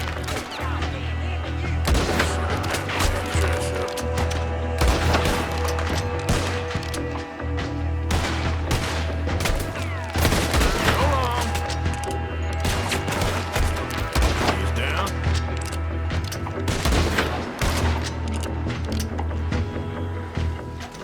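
Repeated gunfire and heavy booming shots in the video game Red Dead Redemption 2, loud and dense bursts over a constant low rumble across the whole stretch.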